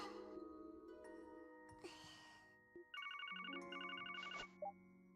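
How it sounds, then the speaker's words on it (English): In the video game Trails to Azure, a phone rings with a repeated electronic trill in two bursts, set against soft game background music with a few brief chimes. "Oh, Maria Bell must have gave her a phone"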